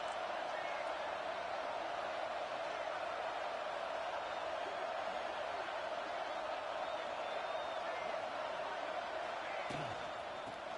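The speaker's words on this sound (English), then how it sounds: "This crowd, full throat, splitting the eardrums and letting them know it's going to be a long day." A steady, dense roar from a full stadium crowd in an NCAA football video game fills the background evenly, with a commentator's voice faintly over it.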